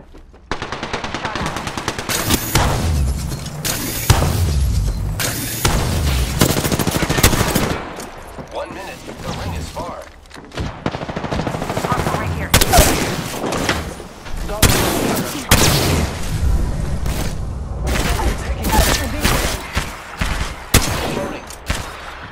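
Rapid bursts of gunfire and explosive impacts in the video game Apex Legends, with dense automatic fire and scattered single shots, while a voice talks over the action at times.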